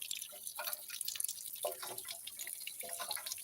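Water dripping steadily into a village water source, a series of quiet, irregular drops and splashes close by with no one talking.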